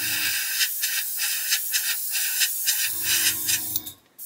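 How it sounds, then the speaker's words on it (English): An airbrush sprays darker RLM02 paint between the wing ribs of a 1/32 Wingnut Wings Fokker E.IV model kit. It makes close, steady hissing bursts in a quick uneven rhythm, with a low hum beneath at the start and again near the end. "There we go, you can see I've just sprayed in between the ribs with the darker colour"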